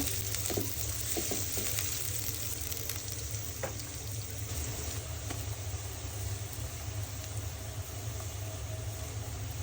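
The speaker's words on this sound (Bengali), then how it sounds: "তেল গরম হয়েছে, পেঁয়াজ কুচি দিয়ে দিব। পেঁয়াজগুলি ভালো করে একটু ভেজে নিব।" Chopped onions fry in hot oil with a steady, close hiss of sizzling, broken by a few soft clicks of stirring.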